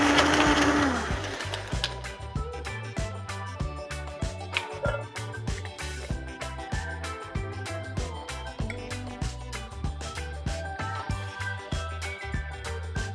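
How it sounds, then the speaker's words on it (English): A blender whirs through a frozen mango rum cocktail with ice, starting with a loud grinding burst that eases into a steady rhythmic churning with repeated knocks, close and alone. "And give it a quick blend."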